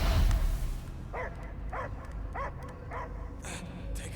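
Dog barking inside the Guardians of the Galaxy video game, a series of five or six evenly spaced barks or yips over a steady game background rumble, with a louder burst at the start.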